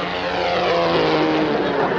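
Propeller airplane droning past as a sound effect in a 1950s radio comedy broadcast, a loud steady engine roar filling the whole stretch with no speech over it.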